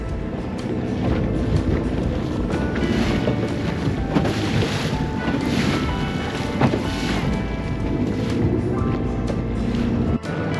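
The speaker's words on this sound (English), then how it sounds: "The wind's blowing so bad, it's gonna be hard to get stationary." Strong wind buffets a fishing boat out on a stormy lake, roaring continuously into the microphone over churning water and waves for the full stretch, loud and unbroken.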